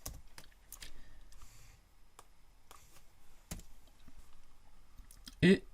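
Keys clatter on a computer keyboard during a programming lesson, with quick clusters of close, light clicks and short pauses between them, followed by a brief voice near the end.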